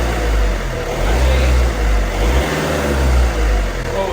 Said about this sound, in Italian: Oh, senti che motore.